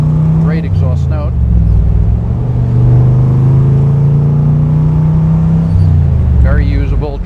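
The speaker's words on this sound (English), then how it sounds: "Get on it a little bit here. Great exhaust note." A 1965 Chevrolet Corvette L79 convertible with a 327 V8 and four-speed revs up, its deep exhaust rumbling steadily and swelling under acceleration, with someone talking briefly at the start and end.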